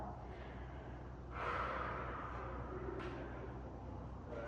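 A slow, audible exhale after a pelvic floor squeeze during a kriya breathing practice, a soft close breathy whoosh rising and fading over a steady low background hum.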